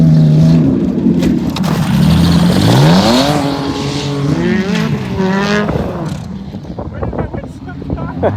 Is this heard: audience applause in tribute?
no